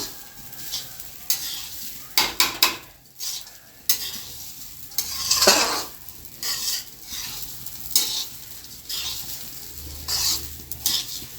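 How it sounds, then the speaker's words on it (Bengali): A utensil stirs rice in a pot for a pulao, giving intermittent scraping strokes against the metal over a soft sizzle. The scrapes come close up in irregular bursts with brief pauses between them, and no speech. "চালটা আমি খুব ভালো করে একটু নাড়াচাড়া করে নিচ্ছি।"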